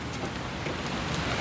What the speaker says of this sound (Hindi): बारिश उससे भयानक आ रही है